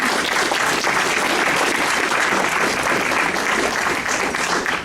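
A symposium audience gives a sustained round of applause for the day's oral presentations, dense and even clapping that fills the room without pause.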